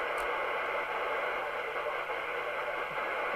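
A Realistic TRC2000 CB radio receives on channel 40, giving a steady, loud hiss of static that fills the whole stretch without any clear voice coming through.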